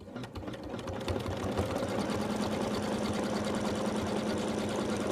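An embroidery machine stitches fabric held taut in a hoop for an in-the-hole Santa bib, a steady rapid needle chatter running close and continuous throughout with no talk.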